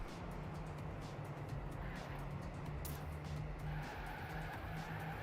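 Race car cornering in a racing video game, a continuous engine drone with tire squeal and skidding throughout, steady and fairly loud with no pauses.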